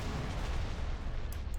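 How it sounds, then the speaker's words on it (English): Laser cannons fire in the space battle game Star Wars: Empire at War, producing dense, booming blasts that overlap in a continuous heavy rumble over a short burst of gameplay. "Open fire on those laser cannons."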